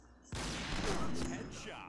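A single sharp sniper rifle shot cracks out in the game Crossfire, followed by a booming tail that fades over about a second and a half, with a faint voice nearby.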